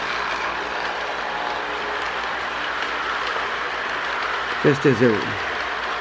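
A restored Marx E7 toy locomotive with a long pilot and power pull motor runs along its track, giving a steady whirring rumble; someone speaks briefly near the end.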